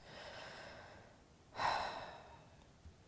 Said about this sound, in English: Taking a couple of breaths.